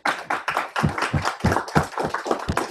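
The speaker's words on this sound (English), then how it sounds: "Give him a round of applause." Audience members clap in a round of applause after a correct chess move during live commentary, sparse, distinct claps from a small group, close and fairly loud, with no voices over them.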